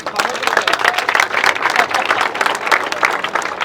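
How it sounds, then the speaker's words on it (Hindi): Students at a NEET 2024 selection announcement clap for everyone, a dense wash of many hands applauding at steady loudness throughout, with voices mixed into the crowd noise. "चलिए एक बार ताली बजा दीजिए सबके लिए"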